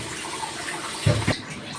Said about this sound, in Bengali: এই বাটি ধোয়া জলটা দিয়ে দিলাম